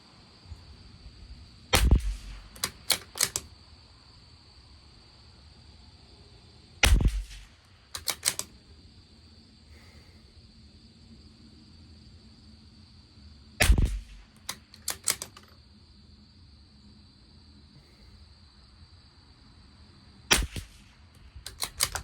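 A Tikka T1X rifle firing SK Standard Plus ammunition: four sharp, loud shots spaced several seconds apart, each followed by quick mechanical bolt-cycling clicks, with a steady hum in between.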